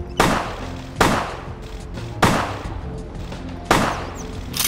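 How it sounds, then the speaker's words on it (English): Four loud gunshots at bottles in the video game Vampire the Masquerade, evenly spaced single cracks with ringing decay between them. "I guess they are making me shoot these bottles."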